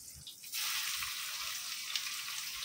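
Onions tipped into hot oil with curry leaves in a home kitchen pan burst into a loud, steady sizzle after a brief quiet moment, the frying hiss holding strong and even to the end.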